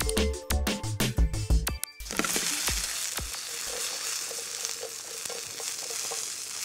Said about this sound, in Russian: Обжарились овощи.